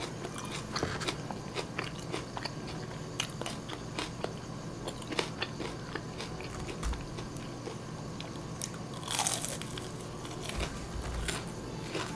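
Crunchy fried chicken with raw green onion, dipped in a spicy red sauce, is bitten and chewed close to the mic, giving repeated crisp crunches and crackles in an irregular rhythm with no talk.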